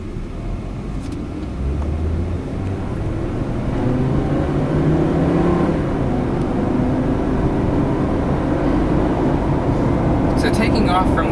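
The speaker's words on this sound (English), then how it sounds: "taking off from the light, as you can see, the 5-cylinder engine produces loads of power for this car" A 2008 Hummer H3 with a five-cylinder engine accelerating away from a light, heard from inside as a loud, low, steady drone that rises in pitch and builds slightly.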